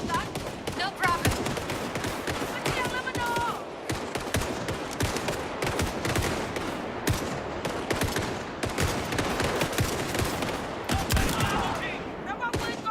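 Rapid gunfire from an Indiana Jones video game, with many sharp shots in dense, irregular bursts across the whole stretch, loud and close, while a voice talks underneath.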